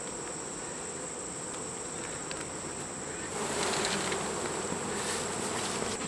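Honeybees at an open hive make a dense, steady buzz close by, holding a constant drone that swells a little louder partway through.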